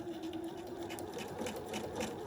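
A sewing machine back-stitches a fabric seam on an autoclavable comfort-fit item, running as a steady, continuous close hum with a faint rapid needle rhythm for the whole stretch.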